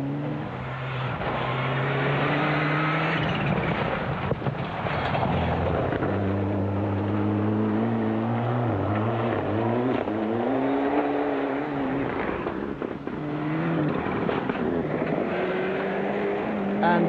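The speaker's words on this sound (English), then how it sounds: "making plenty of noise in his Ascot Cosworth" A Ford Escort Cosworth rally car at a 1997 rally gives off a loud close engine roar, revving up and down with shifting pitch through the stages as it passes, steady and continuous, with no clear talk.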